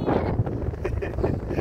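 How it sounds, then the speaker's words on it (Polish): Wind blows steadily on a pier by the sea, making a constant low rumbling buffet against the microphone. "Jak tam wiatr, Aniu?"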